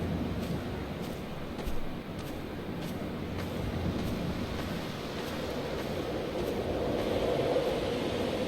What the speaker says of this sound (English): Nothing but ocean and land and the sounds of the sea.